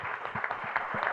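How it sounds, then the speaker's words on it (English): Live audience clapping at a financial conference panel, a dense, steady patter of many hands with periodic low thumps, fairly close and filling the short moment without talk. "Y'all can clap for that"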